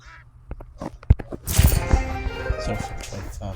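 A duck quacks several times in a winter hunting setting, short nasal calls heard at moderate distance, followed by a burst of rustling, wind-like noise and faint low voices.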